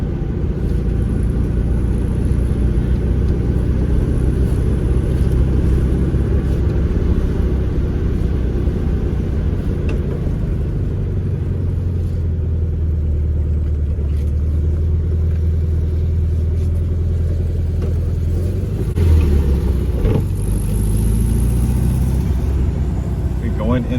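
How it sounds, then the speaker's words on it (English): Car engine under load while driving in third gear, fitted with a Solex 34 PICT 3 carburettor: a steady low rumble and drone throughout, close and loud, with a brief rise near the end. "I'm in third gear right now and the car is just working perfect."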